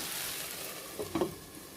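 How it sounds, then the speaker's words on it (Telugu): Okra pieces fry in a covered pan with a steady soft sizzle, then a few brief clinks and clatters near the end, and no talking. "మనం ఈ బెండకాయ ముక్కలు బాగా ఉడికి మంచి కలర్ వచ్చేంత వరకు వేయించుకోవాలి"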